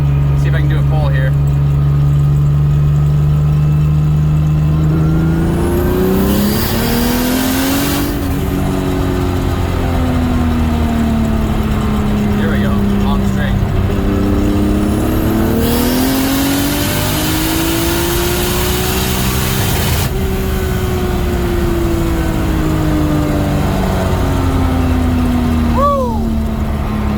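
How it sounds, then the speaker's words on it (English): A BMW M235i engine pulls hard in third gear from inside the car, loud and continuous, its pitch climbing through long sweeps with brief dips at the gear changes, over a steady low drone. "And this car rips in 3rd gear. Like, just rips. Let's see if I can do a pull here."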